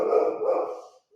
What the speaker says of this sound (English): if his dog hears my dog barking